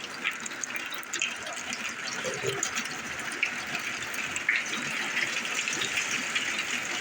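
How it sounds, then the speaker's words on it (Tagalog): Strong floodwater rushes steadily during Typhoon Basyang in Surigao del Norte, a continuous broadband roar with small splashes and no pauses. "Kusog ng tubig, oh."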